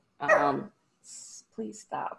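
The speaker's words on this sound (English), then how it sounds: "I'm so sorry that my dog is barking right now." A pet dog barks and whines indoors in short bursts between a woman's pleading words, its yelps interrupting her on a home webinar call.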